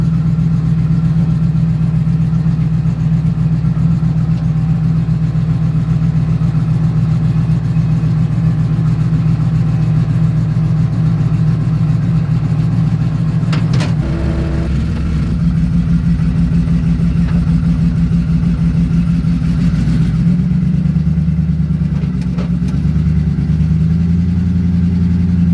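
Chevrolet C10 pickup, bagged, idling as it warms up, a steady low engine rumble close by that shifts and roughens partway through, with a brief rev or change in tone near the end.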